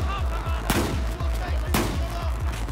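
Rapid, rhythmic bursts of gunfire in Battlefield 4 repeat steadily, with two sharper, louder blasts standing out, and a voice briefly in the mix.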